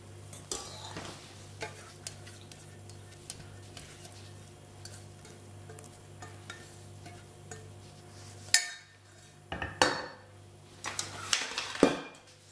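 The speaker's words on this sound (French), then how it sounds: "Je mélange." Madeleine batter with melted butter and milk being mixed in a bowl, quiet soft stirring for most of the time, then louder clinks and scrapes of a utensil near the end.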